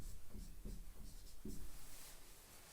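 Writing on a board during a math lecture: a few faint, scratchy strokes spaced about a second apart, soft and close against low room noise.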